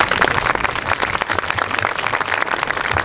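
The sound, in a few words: audience applauding high school band at ceremony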